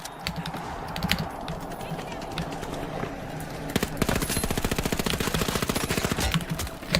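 A gun in a video game fires rapid bursts, loud sharp repeating cracks mixed with faster clicking and background game sounds, as someone talks over them.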